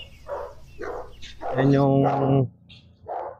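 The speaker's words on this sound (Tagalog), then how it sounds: "Aso nga." A dog barks a few times at a house for sale in a subdivision, sharp yelps spaced apart, with one longer drawn-out howling bark, while someone talks nearby.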